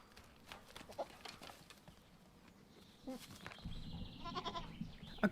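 Goats bleat faintly in the background on a rural farmstead, with a few scattered calls, soft rustling and some movement.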